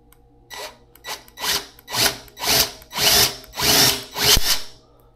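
A power drill bores holes in a Honda Gold Wing motorcycle inner cowl backed by a sacrificial board, a series of six or seven short, loud whirring bursts that build in length, close up with no talking.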